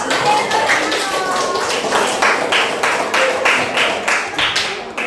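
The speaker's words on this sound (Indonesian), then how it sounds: "Oke, baik, berikan tepuk tangan dong." A classroom of pupils claps hands in loud, close applause, the claps landing in a fairly even repeated rhythm over several seconds, with voices mixed in underneath.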